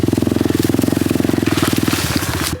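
A dirt bike rides along an overgrown trail at the back of a property, its engine pulsing rapidly and loudly up close while brush scrapes and crackles against it.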